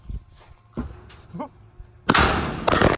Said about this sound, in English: shooting them with a BB gun